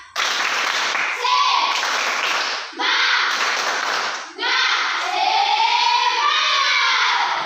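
Class of eighth-grade children doing the tepuk semangat clapping chant as a classroom ice-breaker, loud rhythmic hand claps in short bursts with shouted chanting voices, broken by brief pauses between rounds.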